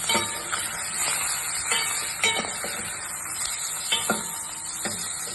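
Marinated prawns are stirred into browned onions in a pot: a spoon scrapes and clinks against the metal in repeated strokes over a steady close sizzle.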